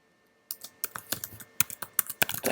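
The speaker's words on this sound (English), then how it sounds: "type in the password again" Keys on a computer keyboard are struck in a quick, irregular run of close, crisp clicks after a brief quiet start, a short burst of entry like a password being typed.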